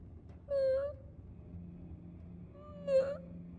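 Two drawn-out, wavering undead moans in a Dungeons & Dragons session, one early and one near the end, rise over a low rumbling background with quiet gaps between them.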